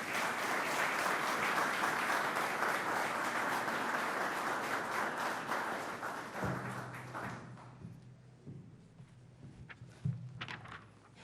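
Dense crowd applause at a governor's announcement event fills the room, then fades out, leaving scattered thumps, taps and room noise.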